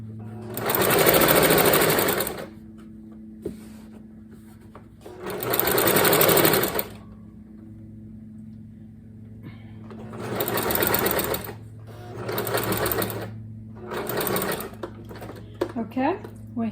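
A domestic sewing machine stitches rows of fabric together for a craft project, running in several bursts of a few seconds each with pauses between, close and loud. A low steady hum continues underneath the whole time.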